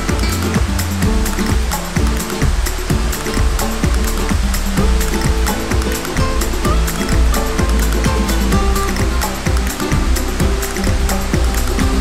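A small waterfall flowing on a large cascade in Spain that carries little water: a constant, loud rushing and splashing wash of water, close by and without pause.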